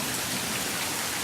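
Steady rain falls on a saturated front yard after a week of downpours, a dense, even patter close by with no voices.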